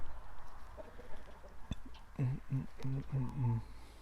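A run of short, rhythmic clucks from chickens in the middle distance over steady outdoor background noise.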